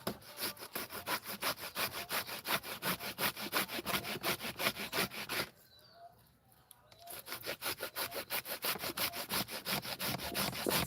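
Something is grated by hand in fast, rhythmic strokes close by, the rasping back-and-forth pausing briefly in the middle before resuming at the same steady pace, with no voices.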